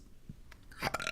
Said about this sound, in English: I still got some like seltzer burps.